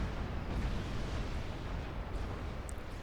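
A unit detonation explosion in Supreme Commander 2 gives a dense, sustained rumbling roar that holds steady for the whole stretch, broad and heavy, with no speech over it.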